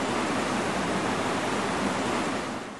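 A small river cascading over a series of small waterfalls at the bottom of a deep, steep-sided ravine makes a steady, close, full rushing roar with no other sounds.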